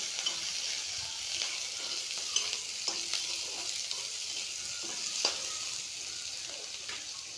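Onions sizzling and frying in a pan for a home-cooked Assamese lunch: a steady bright crackling hiss with occasional louder pops and stirring scrapes, close and continuous, no voices.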